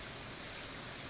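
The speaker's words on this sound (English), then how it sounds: "The joy of the rainy day." Steady rain falling in the farming game Stardew Valley, an even, continuous hiss of drops with no pauses, soft and close, carrying on alone with no voices over it.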